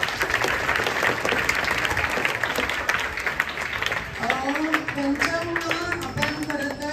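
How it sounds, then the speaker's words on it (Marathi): Loud applause from a student audience at a school health-week event honouring sanitation workers, dense clapping throughout, with a voice speaking over it in the second half. "जोरात एकदा टाळ्या वाजवा"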